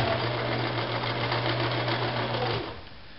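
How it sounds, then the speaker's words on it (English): A sewing machine running fast, stitching down the length of a sleeve on an upcycled fabric produce bag, a steady close whirring hum that stops near the end, leaving quiet room sound. "I'm going to sew down the entire length of that little sleeve, that little envelope"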